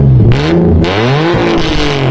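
An Infiniti G37 sedan's VQ engine with test pipes revs up hard, very loud and close, with a raspy exhaust note that climbs in pitch through a couple of sharp throttle blips.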